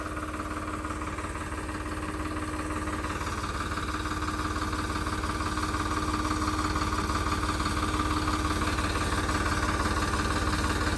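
An old tractor engine runs steadily at idle on a farm field, a loud, continuous low diesel chug with a rhythmic knock and a faint whine above it, close to the listener and with no talk.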